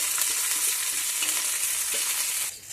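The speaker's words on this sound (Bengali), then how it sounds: "পেঁয়াজটা কিন্তু পুরো লাল লাল করেই ভেজে নেবে" Chopped onions frying in hot oil for a Bengali fish curry, a steady, close, continuous sizzle with faint stirring scrapes, tapering off at the very end.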